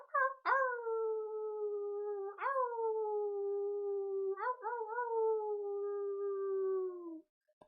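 A person imitates a wolf howl in three long rising-and-falling tonal calls, each sliding up at the start and then holding steady, near and loud with no other sounds.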